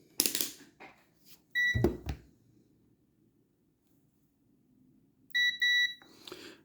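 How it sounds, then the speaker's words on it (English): A multimeter used for continuity checks on a badly corroded Game Boy Advance gives short, sharp electronic beeps in two separate pairs, with clicks and handling noise between them in a quiet room. "I'm going to get my multimeter and we're going to do a little bit of continuity checking"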